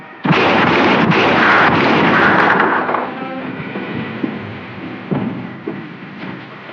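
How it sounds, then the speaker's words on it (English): Gunfire in a jungle adventure TV drama arrives as a loud, rumbling burst lasting a couple of seconds, then trails into fainter echoing rumbles with a few scattered sharp pops. "I heard shots."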